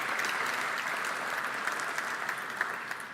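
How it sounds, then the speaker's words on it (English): An audience at an economic forum applauding a speaker, a dense steady clapping from a crowd that stays level for several seconds without talk. "It's unusual for a regulator to get applause"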